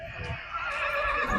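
A horse at a horse market in Yeola neighs in a long, shrill, quavering whinny, loud and close, with faint hoof clops underneath.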